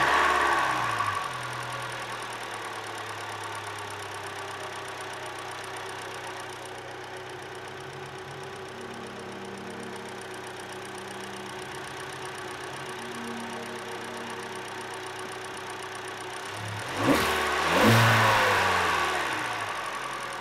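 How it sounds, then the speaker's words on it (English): A fifth-generation Hyundai Elantra engine with an Apexi dual funnel intake idles steadily for a long stretch, then revs sharply twice near the end before settling back down. "let's go ahead and start her up and see how she sounds."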